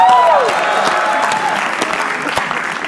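A live crowd at a roast comedy show breaks into dense, sustained applause that slowly tapers off, clapping filling the room close and loud.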